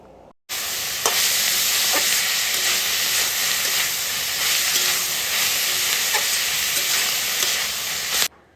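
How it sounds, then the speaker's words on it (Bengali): Vegetables for veg chow mein stir-fry over low heat in a pan, a steady close hiss and sizzle with faint periodic scrapes of stirring, starting abruptly and cutting off near the end. "এবার নাড়াচাড়া করে 5 মিনিট মতো কম আঁচে সবজিগুলোকে ভেজে নেব"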